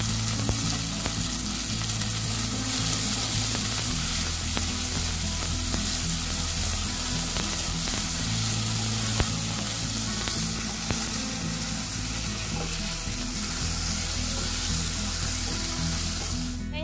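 Chopped tomato sautés in a hot pan with an even, continuous sizzle. Light stirring scrapes sound now and then, and no one speaks.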